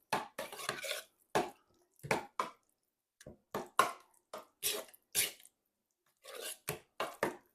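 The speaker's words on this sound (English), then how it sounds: "So just stir all this together" A spoon stirs a hash brown casserole mixture in a bowl, giving a series of soft, uneven scraping and clinking strokes with short quiet gaps between them, close and fairly faint.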